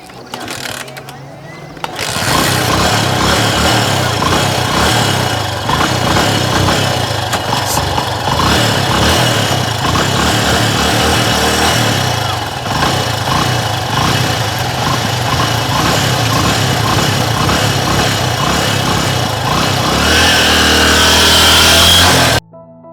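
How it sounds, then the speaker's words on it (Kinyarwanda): A motorcycle in Rwanda that had refused to start sputters to life after a brief quiet moment, then runs loud and close with a steady, rough mid-pitched engine note and slight revving until the end. "iyi moto ngiye noneho kuyiteretesha"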